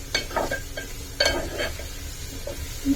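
Potatoes being stirred in a pan for aloo egg curry, with a spoon scraping and clinking against the metal at irregular intervals over a soft sizzle, close and moderately loud, with no talking.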